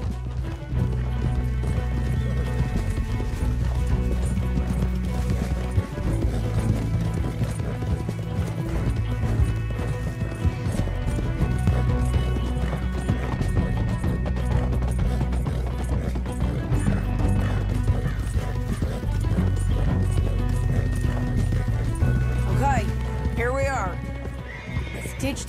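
Horses gallop in Red Dead Redemption 2 with steady clip-clop hoofbeats and occasional whinnies over dense background music and game sounds, continuous throughout.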